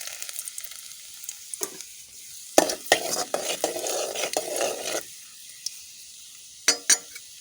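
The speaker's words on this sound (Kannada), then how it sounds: "ನಾನೊಂದು ಬಾಣಲೆಯಲ್ಲಿ 2 ಟೇಬಲ್ ಸ್ಪೂನ್ ಆಗುವಷ್ಟು ಎಣ್ಣೆಯನ್ನು ಬಿಸಿಯಾಗಿ ಇಟ್ಟಿದ್ದೇನೆ. ಇವಾಗ ಇದಕ್ಕೆ ಸ್ವಲ್ಪ ಕಟ್ ಮಾಡಿದಂಥ ಬೆಳ್ಳುಳ್ಳಿಯನ್ನು ಹಾಕಿದ್ದು" Chopped garlic dropped into about two tablespoons of hot oil in a pan hisses and sizzles loudly, with a few sharp utensil clinks and scrapes against the metal around the burst of frying.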